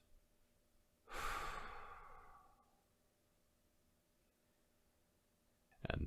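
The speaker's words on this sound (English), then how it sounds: "Breathe in, hold, and breathe out." One long, slow exhale, close and soft, fades out over about two seconds in near-silence, and a sharp fresh intake of breath follows near the end.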